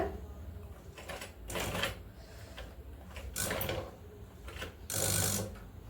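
A sewing machine stitches a cloth tote bag made from waste fabric, running in several short bursts of rapid mechanical whirring separated by brief pauses, close and fairly quiet.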